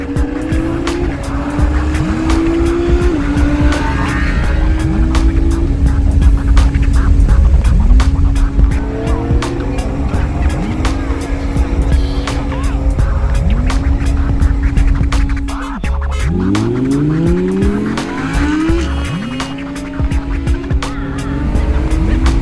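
A car tearing around with repeated engine revs and gear shifts, tires squealing and skidding in loud bursts over about twenty seconds, close and without talk.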